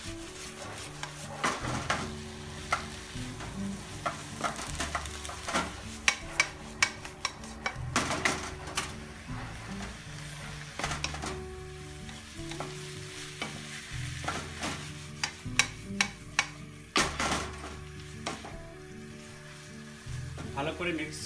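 Sri Lankan kottu is stir-fried in a pan with egg, cooked meat and fried roti, giving a steady sizzle under constant, rhythmic clanking and scraping of a metal spatula for the whole stretch.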